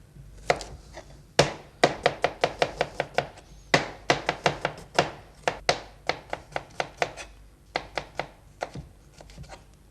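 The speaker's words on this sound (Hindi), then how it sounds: "इसके बाद प्याज को आप स्लाइस कर लें" Kitchen knife slicing onions on a cutting board during chicken biryani prep, a quick run of sharp, close taps in uneven bursts with brief pauses, heard alone without talk.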